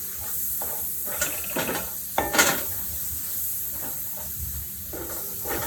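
A spoon works flour into a tomato, onion and garlic cream sauce in a pan, giving soft scraping stirs and a few clinks over a faint steady sizzle, with no talking.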